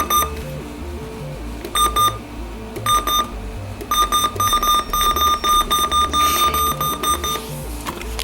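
A RunningSnail MD319 radio alarm clock beeping in repeated bursts of bright electronic tones, loud and close, with brief gaps between groups and no talking.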